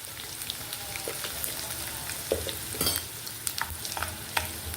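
Crushed garlic cloves, cumin and turmeric frying in a pan, a close, continuous sizzle broken by brisk scrapes and clinks of a spoon stirring, with no voices.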